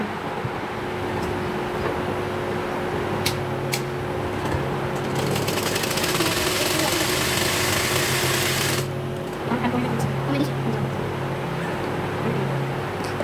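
A sewing machine stitches fabric in a steady whirring run with a louder, faster burst partway through, then settles back, alone without talk.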